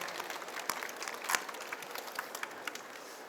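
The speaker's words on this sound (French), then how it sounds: "on peut l'applaudir, on peut l'applaudir, on peut l'applaudir" Audience applause at a chocolate show's pastry demonstration in Montreal, a soft, steady patter of clapping with a few sharper claps standing out, moderately distant and fairly faint.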